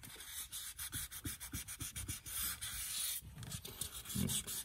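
Wet sanding of turned wood with fine high-grit sandpaper, a quiet, close rhythmic rubbing with quick repeated strokes and a short pause midway, no talking.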